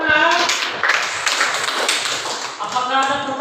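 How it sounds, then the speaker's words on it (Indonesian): Students in a classroom clapping during an English teaching practice lesson, a short burst of scattered claps mixed with children's voices and a teacher speaking over the start and end. "Ya, tepuk tangan."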